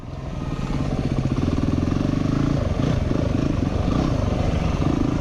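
A Yamaha WR250R motorcycle engine runs steadily and loudly nearby before a trail ride on tribal land, swelling up in the first moment and then holding a constant throbbing idle.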